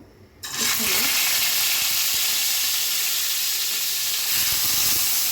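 Oil sizzling in a frying pan, a loud steady hiss that starts abruptly and holds evenly throughout, close and continuous.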